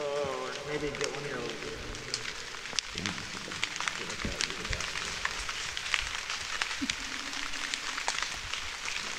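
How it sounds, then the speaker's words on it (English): Soft steady patter of rain on a surface along the French River, with a person speaking briefly in the foreground and occasional small knocks and rustles nearby. "The rain settled right back in."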